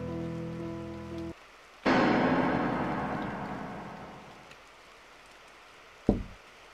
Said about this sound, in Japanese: 雨が激しくなってきたわね。